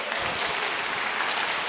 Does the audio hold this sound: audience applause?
yes